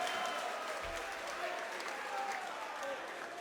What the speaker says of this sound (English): let's give a big round of applause for these blood and guts warriors